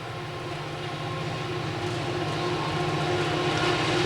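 Rio Grande freight train climbing Tennessee Pass through S-curves at slow speed, heard from inside the locomotive cab as a steady loud diesel drone and low rumble with rhythmic wheel and engine pulsing, growing slightly louder.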